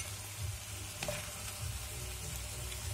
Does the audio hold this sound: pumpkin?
yes